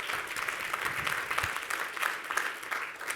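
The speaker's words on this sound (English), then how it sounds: "applause for the inaugural cohort" A room full of people claps steadily at a biotech innovation program's capstone and finals event, a dense patter of applause at moderate distance with no pauses.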